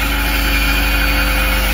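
Steady drone of a boat engine running at reduced power on a fishing trip out to a reef, a continuous low idling rumble with a high whine on top, fairly loud and close with no talk.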